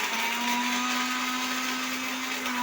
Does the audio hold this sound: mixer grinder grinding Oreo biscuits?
yes